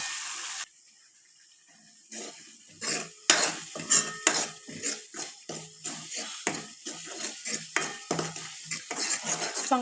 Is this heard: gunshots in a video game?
no